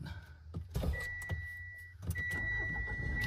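A 2023 Mitsubishi Strada pickup being started inside the cab, with a dash chime tone, a brief cranking thump and the engine catching into a low steady idle, close and fairly quiet.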